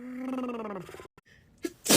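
During an allergy sneezing fit, a drawn-out voiced intake builds, falls into a brief hush, then breaks into a sharp, loud sneeze burst near the end.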